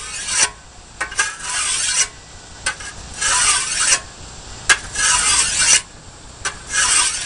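Fine side of an axe puck sharpening stone rubbed along a ditch axe blade in about eight rhythmic rasping strokes, close and fairly loud, with short pauses between them.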